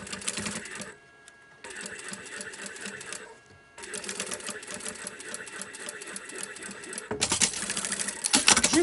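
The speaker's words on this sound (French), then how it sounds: "Il vous suffit maintenant de venir faire une petite couture." A sewing machine stitches a seam on a denim pouch made from reused jeans, running in fast rattling bursts separated by brief pauses, close and fairly quiet, ending with a sharper clatter.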